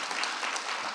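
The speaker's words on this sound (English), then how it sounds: "we should give a round of applause" A crowd applauds at a residents' association annual meeting, a steady, dense wash of clapping that fills the whole second at even loudness with no talk over it.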